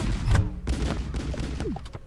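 A cannon fires in a car video game, a booming blast at the start followed by rumbling explosive bursts and debris. The shots are loud and close, with no talk over them.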